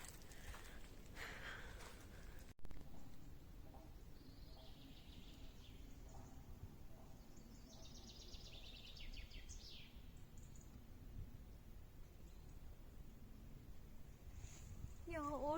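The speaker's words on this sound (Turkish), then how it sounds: "Tam o kadar cıvıl cıvıl ki kuş sesleri içimiz cıvıl cıvıl oldu." Faint bird chirps and tweets drift in from a distance in Danamandıra Nature Park over a steady outdoor hum, with soft rustling and a brief clunk early on.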